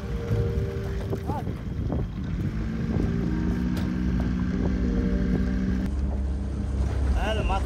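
A small boat's outboard motor runs on shallow water, a steady low drone with wind buffeting the microphone and light water noise, while people talk intermittently nearby.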